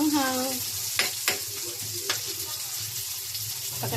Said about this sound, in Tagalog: Sama natin sa gisa yung siling verde para kumatas yung anghang niya.